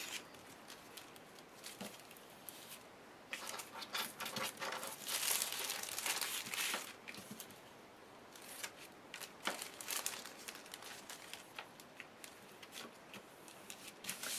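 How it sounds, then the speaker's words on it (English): Cellophane being stretched tight and fastened down over a treat box, a steady run of close crinkling and crackling with rustling bursts and short taps, no talking. "I'm going to pull the cellophane tight and then secure it down."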